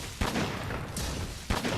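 Normal gunlance shells firing in Monster Hunter World, two sharp blasts about 1.3 seconds apart standing out over a busy, steady bed of game noise.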